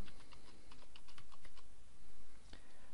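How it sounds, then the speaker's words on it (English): Close computer keyboard typing as a database name is entered, a quick run of crisp, irregular key clicks with brief pauses, ending in a sharper keystroke. "You type in the database name"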